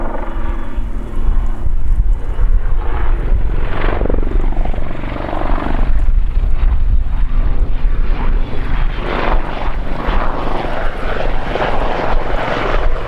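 An Army Lynx Mk 7 helicopter flies an airshow display with a loud, continuous rotor thrum and engine roar that swells and shifts as it manoeuvres, with no talk.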